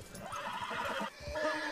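A horse in the video game Red Dead Redemption II gives a loud, close whinny that rises and breaks off, followed by a second shorter neigh, with no voices over it.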